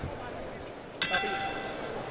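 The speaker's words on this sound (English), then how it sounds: "Bell round number 2" At a professional boxing match, the ring bell clangs once with a bright, ringing tone that fades slowly over crowd murmur, marking the start of round two.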